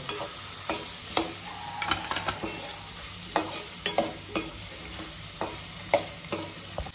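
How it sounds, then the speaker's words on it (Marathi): Tomatoes and ginger garlic paste frying in a pan, a constant sizzle broken by repeated sharp clacks and scrapes of a spoon stirring at an irregular rhythm, close and fairly loud. "आता टमॅटो टाकून घेऊया लगेच आलं लसण पेस्ट नंतर. थोडं फ्राय करून घेऊया"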